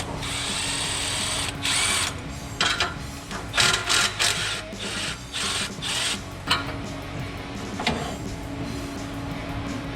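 Bursts from a power tool unbolting a bolt on a twin-turbo big block engine, several short loud whirring runs with pauses between, close by and without talk.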